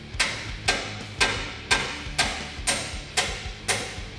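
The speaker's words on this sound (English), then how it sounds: "tap in our sleeve into the frame using a hammer" A hammer taps a Rough Country lift kit sleeve into the frame of a 1997-2006 Jeep Wrangler TJ, giving eight evenly spaced, crisp metallic knocks with short decays, close and clear over a quiet background.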